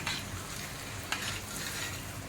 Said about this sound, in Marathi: एक साईड चांगली तेलामध्ये फ्राय करून घेतलेले आहे आता आपण पलटी करून घेऊया